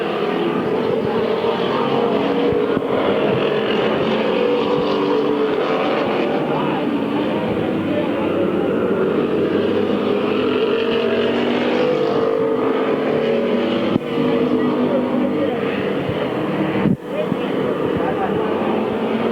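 Race cars roaring around Midvale Speedway in 1999, a loud continuous engine drone from the pack on track, heard from the stands with a voice talking over it.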